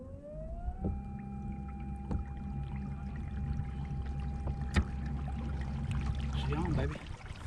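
Boat motor running on a lake, a steady low drone with a rising whine as it throttles up, then cutting off near the end, with a person talking over it.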